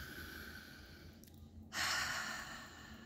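A deep breath is drawn in and released during an EFT tapping session, a soft close inhalation followed by a louder, airy exhale against quiet room tone.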